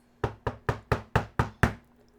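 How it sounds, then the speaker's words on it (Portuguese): Seven evenly spaced knocks on a door in quick succession, sharp and close, each with a short hollow ring, then silence; no voices. "bateram na porta."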